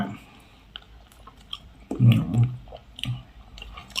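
Someone chews a fiber snack close up, with soft crunchy bites and squishy mastication bunched around the middle of the clip and a few fainter chews afterward.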